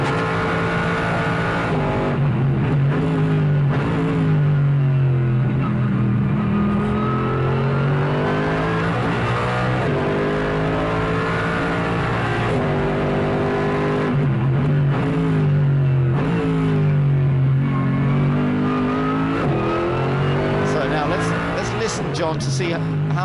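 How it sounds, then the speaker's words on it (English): A GT3 race car engine revs hard from an onboard camera during qualifying at the Algarve circuit, its pitch climbing and falling through gear changes, loud and continuous, with commentators talking over it. "let's listen to this wonderful engine note"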